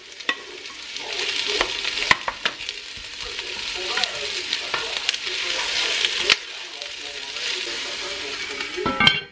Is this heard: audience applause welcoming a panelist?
no